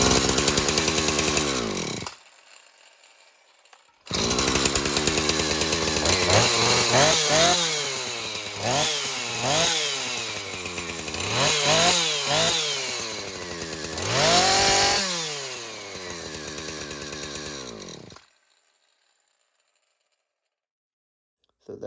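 A repaired chainsaw starts and runs, its engine revving up and down in repeated surges with brief idles between, loud and close, then cuts off near the end.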